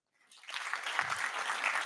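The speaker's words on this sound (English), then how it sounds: "let's welcome with a round of applause our jury members" Audience applause at an Unreal game jam event fades in and swells into a steady, dense round of clapping from a crowd, with no speech over it.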